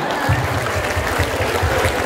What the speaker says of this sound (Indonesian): Wah, tepuk tangan dulu dong